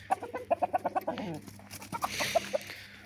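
A rooster clucks close by in a quick run of about eight sharp, evenly spaced clucks, then goes on with a few looser clucks after a short pause. No one speaks.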